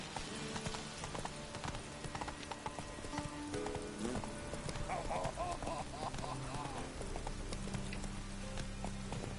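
Galloping horse hooves clip-clop steadily and loudly throughout in The Witcher video game, with a brief whinny, game music and effects layered over the hoofbeats.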